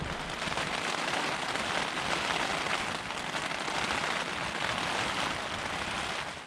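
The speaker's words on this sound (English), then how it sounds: "It's been raining a lot, as you can see on my fly, which is actually leaking at a couple of spots." Heavy rain drums steadily on a tent fly in the boreal forest of Wabakimi, a close, dense, continuous patter that stays even in loudness, with no voices.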